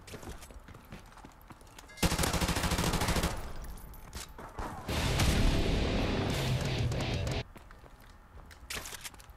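Suppressed AK-74U fired in Modern Warfare Remastered: two sustained automatic bursts, the second longer, muffled yet loud against faint ambient game noise.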